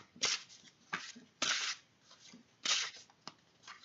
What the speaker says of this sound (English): I feel like I need to pull another card. Let me just find my other deck here.